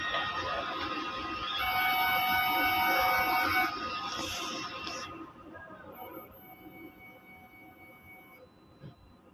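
A four-head DTF printer runs a print head cleaning cycle, giving a loud, steady mechanical whir with high tonal whines that later drops to a quieter hum with scattered clicks.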